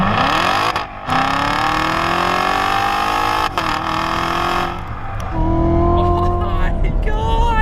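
A Corvette C7 Z06 launches under launch control, its engine roaring loud and close as it revs and pulls hard through rising gears, with people exclaiming over the noise.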